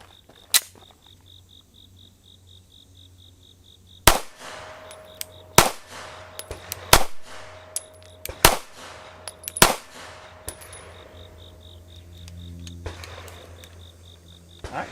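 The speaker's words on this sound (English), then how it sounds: "This Fiocchi 9mm, 115 grain. Up first, Ahrex Delta M, 5 rounds," Five shots from an Arex Delta M 9mm pistol loaded with Fiocchi 115-grain rounds, each a sharp loud crack spaced about a second apart, with a faint steady insect-like hum in the background.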